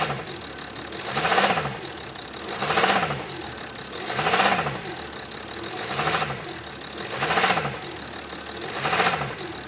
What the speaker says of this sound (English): What I'm gonna do now is hop back in the car, rev it, and let you listen.